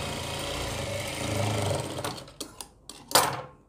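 A sewing machine stitching a long designer kurti runs in a steady continuous whir for about two seconds, then stops and gives a few short separate bursts, close up, no talking.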